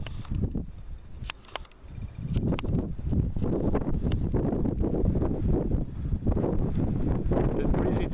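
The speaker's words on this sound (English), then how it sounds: "A bit breezy today." Wind blowing steadily at the edge of a ravine in Kato Chora Mylopotamos, buffeting the microphone with a rough continuous roar and a few sharp gusts, with no talk.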